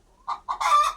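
Chickens on a local chicken farm give a short burst of clucks and a brief crowing call from a rooster, close and clear against a quiet background, lasting about a second.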